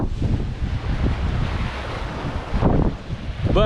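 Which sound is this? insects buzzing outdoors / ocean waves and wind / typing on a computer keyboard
ocean waves and wind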